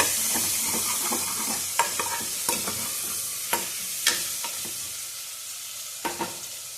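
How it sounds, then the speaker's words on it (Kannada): Onion and curry leaves frying in a pan with a steady sizzle, broken by sharp clicks and scrapes of stirring at irregular intervals, close and moderately loud with no voices. "ಈರುಳ್ಳಿ, ಕರಿಬೇವು 2 ಹಾಕ್ಕೊತಾ ಇದ್ದೀನಿ. ಸ್ವಲ್ಪ ಫ್ರೈ ಮಾಡ್ಕೋಬೇಕು."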